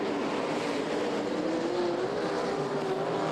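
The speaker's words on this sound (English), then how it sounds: "Sean Black goes past us, put a lap on the 31 of Doyle" Super sedan race cars roar past on the dirt oval at Archerfield Speedway during an A-Main, producing a loud, continuous engine drone with a slowly rising pitch as a car passes close by.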